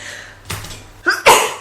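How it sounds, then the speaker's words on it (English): A single sneeze from a man on a studio show, a faint breathy intake followed by a sharp, loud, close burst that tails off quickly, with no one speaking over it. "stand by for another sneeze"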